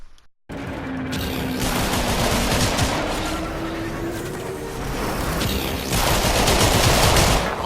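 A ship's cannon in Warframe fires at the player: after a brief silence, a dense, loud barrage of rapid blasts and roaring gunfire runs continuously, swelling louder toward the end.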